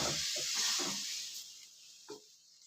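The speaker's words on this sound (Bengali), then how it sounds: "ডালটা ঢেলে দিলাম।" Red lentils poured into hot oil tempered with asafoetida and whole spices give a loud, close hiss and sizzle that slowly settles, with a small clatter near the end.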